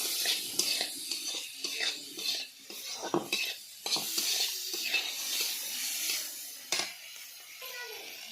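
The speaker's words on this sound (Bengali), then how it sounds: "এখন আমি টমেটোটা ভাজা ভাজা করব।" Tomatoes frying in a pan with salt and turmeric, stirred with a utensil that scrapes and clinks against the metal in irregular bursts over a low, steady sizzle, close by with no talking.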